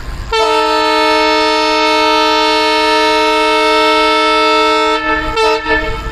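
Departing Kulik Express on its first LHB run, its ALCO diesel locomotive sounds a long, loud, steady multi-tone horn blast for about five seconds before it cuts off into rumbling noise.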